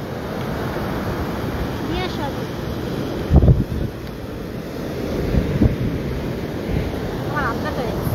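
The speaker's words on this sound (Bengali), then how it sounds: "অনেক বাতাস তো" Strong wind buffets the microphone on a Sydney beach during fishing, a steady roaring rumble with surf behind it and a few louder gusts, while people talk throughout.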